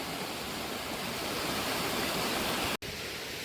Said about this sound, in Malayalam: ഇവിടെ ചെറിയൊരു പുഴയും ഇങ്ങനെ ഒഴുകി വരുന്നുണ്ടേ